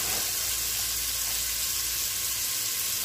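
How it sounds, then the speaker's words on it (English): Steady, dense sizzling of sausage stir-frying in a hot pan, a continuous crackle with no voices. "we're stir frying that"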